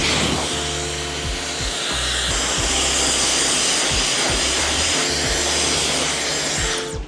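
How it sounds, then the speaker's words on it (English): A hair dryer roars steadily while blow drying a man's freshly cut hair in a barbershop, loud continuous whooshing airflow with a low motor hum and rhythmic brushing or comb strokes running underneath until it clicks off at the end. "It's really important to blow dry it, right?"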